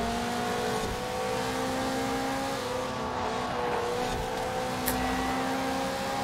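Toyota Celica GT-Four ST205 rally car engine in Forza Horizon 4, droning steadily at high revs with a sustained tonal whine and faint tire noise, loud and continuous with no talk.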